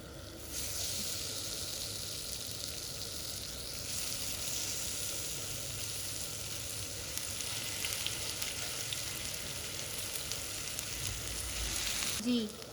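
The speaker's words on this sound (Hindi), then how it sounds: "अब एक एक करके हम इसके अंदर हमारे लेबनीज़ कबाब रख देंगे फ्राई करने के लिए।" Lebanese chicken kebabs fry in oil on a hot tawa, giving a steady, dense sizzle that holds fairly loud and close for the whole stretch with no talking over it.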